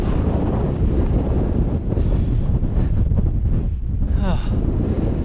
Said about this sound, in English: Don't even know if you can hear me because the wind is howling.